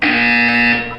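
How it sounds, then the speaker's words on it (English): In the video game Portal 2, a loud electronic buzzer sounds once, a harsh steady tone held for about a second, then it cuts off. "You will hear a buzzer. When you hear the buzzer, look up at the ceiling."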